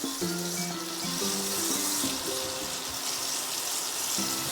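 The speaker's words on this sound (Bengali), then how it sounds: "পেঁয়াজটা তেলে দিয়ে একটু হালকা করে পেঁয়াজটাকে ভেজে নেব, বেশি লাল করব না।" Onion fries lightly in oil, making a continuous dense sizzle at moderate level, with soft background music running over it.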